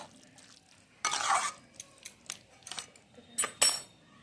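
Chopped coriander leaves are stirred into a hot mixed winter vegetable filling for masala dosa, with close, scraping bursts of utensil against pan separated by quieter pauses.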